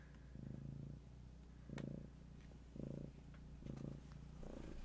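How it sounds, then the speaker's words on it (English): A pet cat named Marceline purrs close by in a quiet room, steady low rumbling in about five rhythmic swells, each roughly a second apart, with no talk. "Purr."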